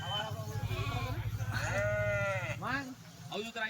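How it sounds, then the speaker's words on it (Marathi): Goats being sold at a farm bleat loudly and repeatedly in long wavering cries, close by, with people talking in the background throughout. "आई बासाहेब ती बकरी उभी कर"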